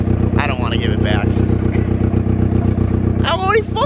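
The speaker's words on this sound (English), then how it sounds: "It's my engine." A turbocharged Mazda Miata engine idles with a steady, throbbing low pulse, close and loud, while human vocal sounds break in briefly over it.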